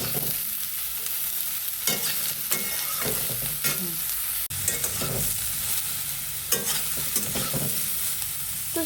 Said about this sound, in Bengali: তারপরে দিয়ে দেব সয়াবিন, দিয়ে এটাকে নাড়াচাড়া করব।